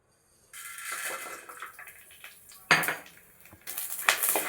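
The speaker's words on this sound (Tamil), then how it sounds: "பேன் நல்லா சூடேறினதும் பூண்டு மிளகை வறுத்து எடுத்துக்கணும்" Garlic and black pepper being dry-roasted in a hot pan, heard as a run of metallic scraping and clanking from a utensil against the pan, with a couple of sharper knocks, close and alone.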